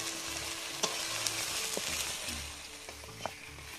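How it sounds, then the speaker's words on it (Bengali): A ground spice paste of dried chilli, green chilli, coriander, cumin, ginger and garlic fries for chicken kosha, cooked village style, with a close, steady sizzle and several sharp clinks of a spoon stirring in the pan. "এখন চিকেন কষার জন্য বাটা মশলাগুলো একটু ভেজে নেব"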